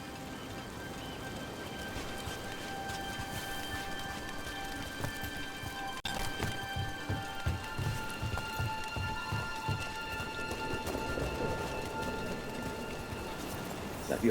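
Steady rain falling in the video game Dragon Age The Veilguard, a soft constant hiss of drops with faint ambient tones and some low thuds in the latter half, fairly quiet throughout.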